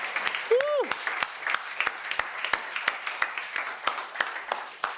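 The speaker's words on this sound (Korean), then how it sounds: "하나님께 영광의 박수를 올려드리겠습니다" Congregation clapping during a church sermon: sparse, distinct handclaps in an uneven rhythm, with a brief sliding vocal sound near the start and light background room noise.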